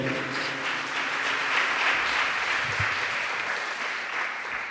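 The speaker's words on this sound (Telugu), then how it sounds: "గట్టిగా చప్పట్లు కొట్టండి ఒకసారి" Steady, dense applause from a church congregation at a Palm Sunday service fills the whole stretch, a broad wash of clapping that holds at an even level without pause.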